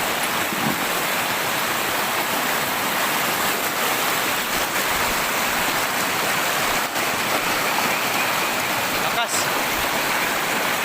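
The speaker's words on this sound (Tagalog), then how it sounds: "Malakas yung current ng tubig." Rushing water roars steadily and loudly, a dense continuous broadband wash like a fast stream or rapids, with no pauses.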